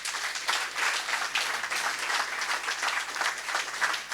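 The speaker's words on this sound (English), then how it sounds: "Let the applause reflect our appreciation." An audience at a professional talk gives steady, even applause, many hands clapping together in a continuous wash at moderate loudness, with no voices over it.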